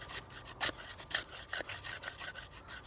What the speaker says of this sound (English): just to show you that it can cut wood